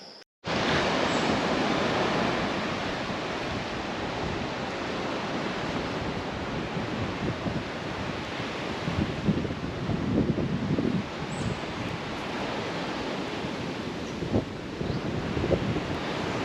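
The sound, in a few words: waves and wind at Lamai Beach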